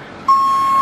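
A tow truck's reversing beeper sounds one long steady electronic tone lasting about half a second, loud and close, while the truck backs up to an old Tahoe.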